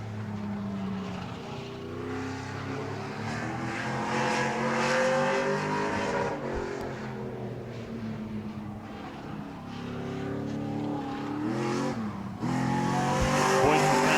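Pro trucks lap a short oval at Auburndale during qualifying, engines droning and rising in pitch as they pass, with revving swells and a faint tire squeal, the roar steady and fairly close throughout.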